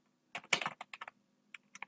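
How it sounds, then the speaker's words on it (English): Quick bursts of typing on a computer keyboard, about a dozen close, crisp keystrokes in uneven clusters with a short pause midway, no talking. "my keyboard's not working very well"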